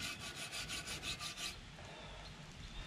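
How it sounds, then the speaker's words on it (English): Scrubbing parts of a Presto pressure canner during a rebuild, a close rasping rub in a rhythmic back-and-forth burst of strokes that stops partway, leaving quiet background. "I'm gonna finish scrubbing on this thing"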